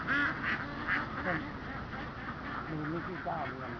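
Ducks on a field duck farm in Kamphaeng Saen district, Thailand, quack repeatedly in loud, nasal bursts, a flock calling continuously nearby with voices mixed in.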